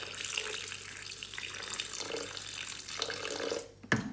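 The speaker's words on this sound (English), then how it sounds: "What I do now is to just add some water, just enough to cover the blades" Water runs from a tap into a kitchen mixing bowl with blades inside, a steady gentle splashing stream that pauses briefly and resumes before stopping with a small knock near the end.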